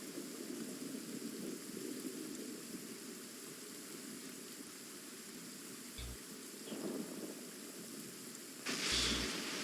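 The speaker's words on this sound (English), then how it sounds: "Downpour. Nothing will get done until it clears." Steady heavy rain pours down in a video game, a broad continuous hiss with a few brief low thumps and a slight swell near the end, no voices.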